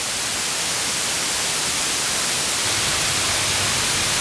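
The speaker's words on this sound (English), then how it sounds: "White noise is useful mixed with oscillator as a modulation source." Steady hissing white noise from a 1U synthesizer module fills the whole clip, bright and even, with no other sounds.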